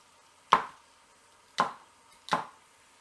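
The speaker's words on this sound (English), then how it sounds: "Just roughly chop them. We're gonna strain this anyway, so they're okay. You can even use the leaves of the celery." Three sharp knife chops on a cutting board as vegetables and celery are roughly cut, spaced unevenly about a second apart, close and distinct over near silence.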